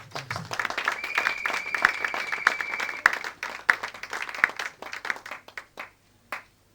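Church congregation applauding during a sermon, a moderately distant patter of clapping that rises, continues for several seconds with some sharper claps, then thins out to a few last claps.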